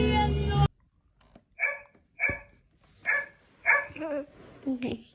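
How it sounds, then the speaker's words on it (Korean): A dog barks in a series of four or five short, sharp yaps spaced about half a second apart, fairly close, after a brief burst of a loud voice at the start. "이거는 그냥 멍멍이 소리야."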